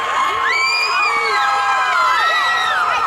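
An outdoor crowd at a crawfish festival in Spring, Texas cheers, with loud whoops and high shouts rising and falling close by over a general crowd roar.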